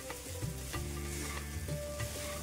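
Kanda poha with onion is stir-fried in a pan over a full flame, a close, steady sizzle broken by scraping and tossing sounds as it is stirred, with no voices.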